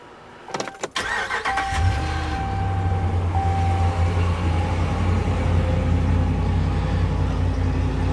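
A truck engine starts after a couple of sharp clunks, then idles with a loud, steady low rumble close by, running continuously to the end with no talking.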